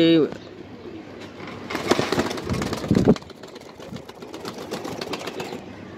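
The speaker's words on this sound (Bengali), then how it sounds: "এটি হাই ফ্লিয়ার কবুতর।" Serbian high flyer pigeons cooing in a loft, soft throaty coos and fluttering over someone talking, with a brief noisy burst midway.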